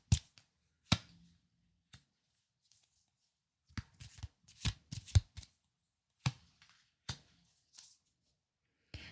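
Tarot cards are shuffled and drawn in a quiet room, with crisp, close riffles and sharp snaps of card edges in scattered clusters separated by near silence.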